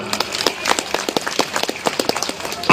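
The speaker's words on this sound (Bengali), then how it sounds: "কি একবার জোরে হাততালি হবে না?" An audience at a political gathering claps in quick, uneven bursts, a close, crisp patter of hands with no voices.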